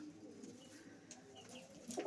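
A soft, faint coo from a female pigeon, low and murmuring, heard close by against quiet background noise.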